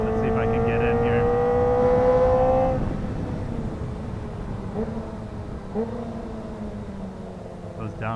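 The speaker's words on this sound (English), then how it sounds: "Those downshifts in the tunnel sounded great" A Ninja sport motorcycle downshifting inside a tunnel, its engine note rising into a sharp tone, then dropping as revs fall, echoing loudly with a few brief blips afterward.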